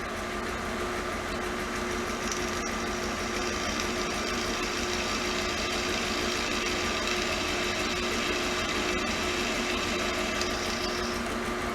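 A steady, high-pitched drill whine runs continuously at close range, boring out metal rivets on a Rekluse clutch basket without pause and with no voices.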